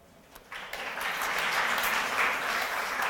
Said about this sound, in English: Clap if you believe it should be